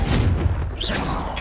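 A Confringo spell blast goes off in Hogwarts Legacy, a loud, heavy boom with a whooshing burst, close and dense with game noise.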